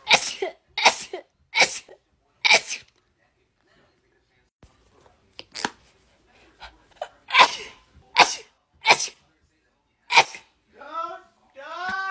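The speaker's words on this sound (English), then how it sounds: "I'm trying not to, but I got to sneeze." A person sneezes repeatedly and sharply, close and loud, with a quick series of bursts spaced a second or so apart. Brief quiet sounds fall between them and a voice is heard near the end.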